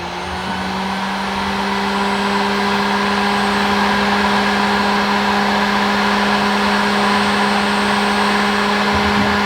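Steady whine and blowing roar of a Bauer heat gun from Harbor Freight running continuously up close, with a constant tonal hum that swells slightly at the start and then holds level, no talking.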